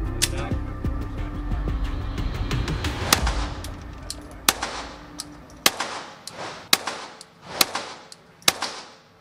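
A handgun firing at a shooting range, a series of sharp loud cracks, first a dense burst then about eight separate shots spaced roughly a second apart, with a low rumble beneath, no talk.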